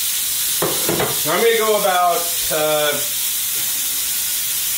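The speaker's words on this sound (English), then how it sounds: "There you go, you hear the sizzle." New York strip steak sizzling in smoking-hot olive oil, a loud, steady high hiss of frying throughout, with someone talking over it.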